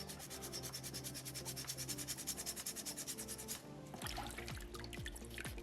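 Sandpaper rubbed by hand over a small soapstone orca carving in repeated quick strokes, a close, soft scratchy rasp that shifts to slower, separate swipes near the end.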